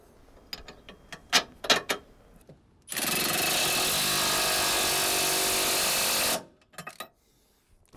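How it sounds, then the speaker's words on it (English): A big tow hitch fixing bolt on a 4.4 TDV8 Range Rover being run in by a power tool: one loud, steady mechanical rattle of about three and a half seconds, close up, with a few light clicks and knocks before and after. "take our big fixing bolt and whack it through that securing hole, tighten it up nice and tight"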